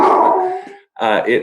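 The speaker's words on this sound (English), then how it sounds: "Sorry, that's my dog." A dog barks and whimpers close to the microphone in two short bursts separated by a brief gap, loud against a quiet home background during an online interview.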